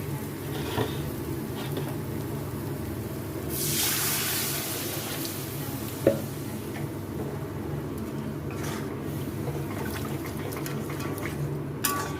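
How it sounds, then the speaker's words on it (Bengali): Water poured into a pan of fried spice paste for a potato and egg omelette curry, a brief splashing rush lasting about a second, then a steady low background hiss with a few small clinks. "এখন আমি জল দিয়ে দিচ্ছি"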